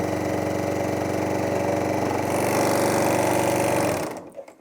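A Bernina L860 overlocker runs at a steady fast stitching speed, its dense even mechanical hum and rapid needle rhythm holding for about four seconds before it stops abruptly and a few faint clicks follow.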